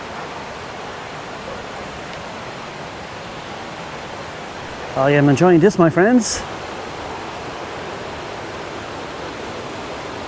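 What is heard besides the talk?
waterfall, water rushing over rocks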